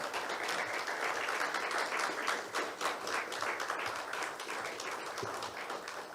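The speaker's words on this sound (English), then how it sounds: "Please clap for him as he comes up." Audience clapping steadily at an NTV Kenya live event as the president of the Electric Mobility Association of Kenya comes up to the stage, soft even applause throughout.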